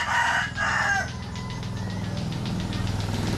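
A rooster crows at a distance, two short rising calls, followed by a low rumbling tricycle engine drone during night travel.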